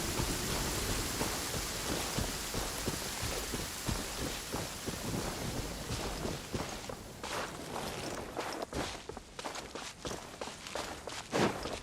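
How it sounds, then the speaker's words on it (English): A downpour in the Genshin Impact video game, a dense steady hiss of rain throughout with crisp footstep-like taps growing more distinct toward the end. "Taking a stroll in the middle of a downpour certainly rouses the spirit."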